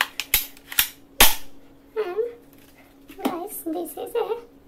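Toy pistol from a bow-and-arrow and toy gun set fires three sharp cracks in quick succession, followed by someone talking over some faint clicks.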